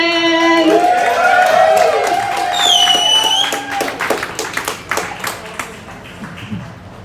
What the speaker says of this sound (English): there's people clapping over here too